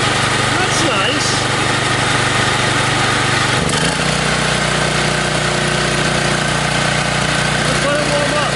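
A small engine idles steadily after a cold start, a loud continuous drone that shifts slightly in pitch midway, with a voice talking over it.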